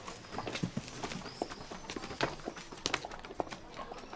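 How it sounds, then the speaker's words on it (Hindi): Horse hooves clip-clop at a steady pace as the horse pulls a carriage, the quiet, fairly close hoof beats sounding over a soft outdoor background. "वो देखो घोड़ा गाड़ी कितना सुंदर है।"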